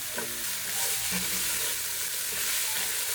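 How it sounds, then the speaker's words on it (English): Ground meat and peppers fry in a pan with a steady sizzle, broken by scraping and stirring scrapes from a spatula, close and fairly loud throughout with no talk. "Add your peppers."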